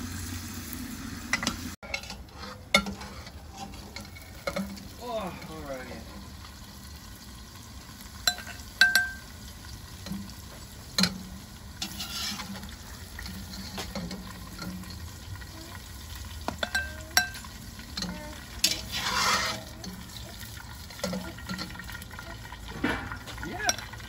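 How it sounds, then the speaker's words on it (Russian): Steady sizzling of onions frying until golden in an Afghan cauldron (kazan), with occasional clatter of stirring and faint voices in the background. "мы жарим до золотистого цвета."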